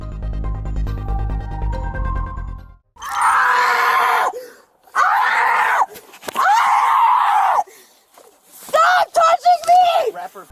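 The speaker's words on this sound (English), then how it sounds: "She kept thrashing around in the vehicle, screaming and trying to break loose." A woman screams and shrieks repeatedly in the back of a police car, loud and close, in long anguished bursts with brief pauses, while she is held in a body restraint.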